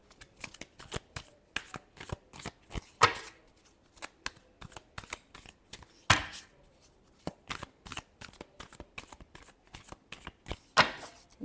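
Tarot cards shuffled by hand in a steady run of crisp riffling bursts, close and clear with no talking, some strokes sharper and louder than the rest.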